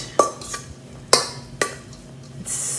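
Grain and cheese are mixed in a bowl: a few sharp clinks of a utensil against the bowl, separated by quieter scraping and stirring, close up and with no talking.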